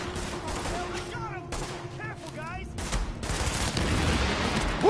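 Gunfire from The Division during online play: bursts of shots crackle over a steady background of game ambience, with a person talking over parts of it.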